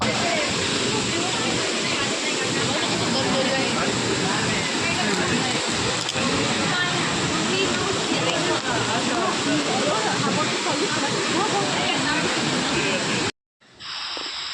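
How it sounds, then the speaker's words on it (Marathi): Randha waterfall near Bhandardara pours into a deep gorge with a loud, unbroken broadband roar that fills the scene, close and constant, before cutting off abruptly near the end. "हे धबधबा वरून पाणी पडताना खाली पण एकदम असं खोल आहे"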